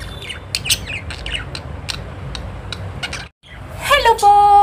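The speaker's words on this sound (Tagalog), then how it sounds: "Pati pa yung mga ibon ko eh, nagulat ah, si Lily at si Lily at si Butsukoy." Pet birds kept indoors chirp and squawk in quick bursts, close and lively, with a person talking over them, then a short silence before louder, shrill calls return.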